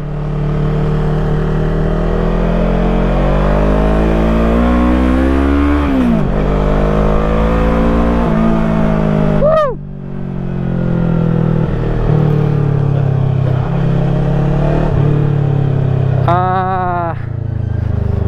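A 400cc motorcycle engine, Fekon Falcon X 400, revs repeatedly, rising and falling in pitch with sharp throttle blips, loud and close, with a rumbling idle between revs.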